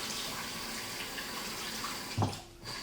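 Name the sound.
shower water running while washing a beard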